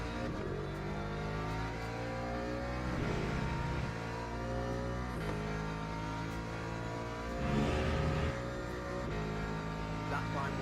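A BMW race car in the Le Mans Ultimate sim racing game at Silverstone's short layout revs through gears in repeated rising and falling engine sweeps, steady and fairly close, with occasional surges around downshifts.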